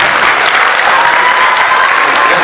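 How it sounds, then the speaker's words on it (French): Steady, dense audience applause fills the room at a French-language Francophonie celebration, loud and continuous without pause, with no clear speech over it. "Et applaudissements, applaudissements."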